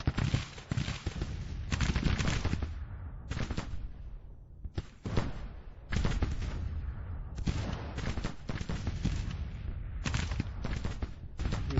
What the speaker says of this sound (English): You see the artillery duel between the Union and Confederates.